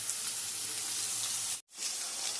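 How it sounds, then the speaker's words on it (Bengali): Beans and carrots frying in hot oil make a steady, close sizzle throughout, broken by a brief silent gap just past the midpoint before the crackle resumes. "তেলের ওপরে বসিয়ে দিলাম বিনস আর গাজর ভাজতে।"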